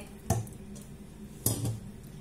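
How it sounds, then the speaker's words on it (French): Potato and minced meat mixture for a gratin stirred in a bowl, two distinct clinks of a utensil against the dish with a soft squishy scrape between, quiet and close. "Maintenant, on va prendre la moitié de ce mélange. On va le mettre par-dessus aussi pour bien mélanger."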